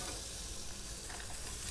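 Delicate fish fillet sizzling on a grill, a loud, continuous hiss and crackle with no pauses and no voices, close and steady throughout.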